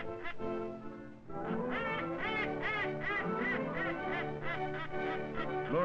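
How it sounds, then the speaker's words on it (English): A flight of ducks in the field calling with a busy chorus of quacks, overlapping nasal calls repeating steadily for several seconds, fairly close, with light background noise. "Flight of ducks from the north."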